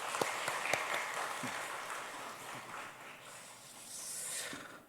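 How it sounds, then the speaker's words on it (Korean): A church congregation applauding in glory to God at a Sunday afternoon service, a broad, soft wash of clapping that fills the space steadily and tapers off toward the end. "다시 한번 하나님께 영광의 박수 올려드리겠습니다."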